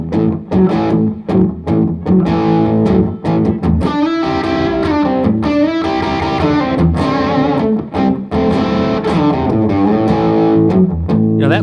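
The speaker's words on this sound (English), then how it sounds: "if I have a little distortion on and I have my volume turned down a little bit" Electric blues guitar played with a little distortion and the volume turned down, picking out a run of notes and ringing chords with short pauses between phrases, alone and without voices.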